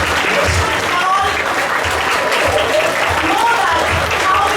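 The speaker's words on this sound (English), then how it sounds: "Yes, take a round of applause." Steady, loud audience applause fills a school assembly hall, sustained clapping from a large crowd without pause, with some voices faintly mixed in.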